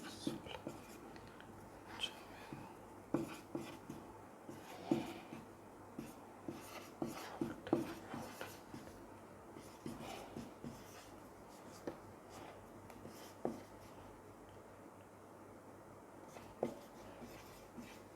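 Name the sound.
writing numbers by hand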